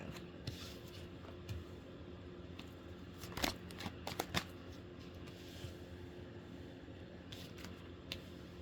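Tarot cards are shuffled and handled close by: soft, faint riffles and papery flicks with a few sharper snaps partway through, over a low background hum.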